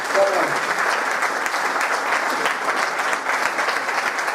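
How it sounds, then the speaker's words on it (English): Loud, close applause from a nightlife audience for a performer, with many hands clapping in a dense, steady burst throughout and voices mixed faintly into the clapping. "Give him a round of applause."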